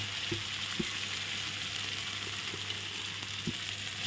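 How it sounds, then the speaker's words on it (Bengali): Prawns dropped into a pan of coconut masala set up a steady sizzle, with a few soft clicks and stirs sounding above the constant frying hiss. "আমি এখন মাছটা দিয়ে দেবো ওর মধ্যে।"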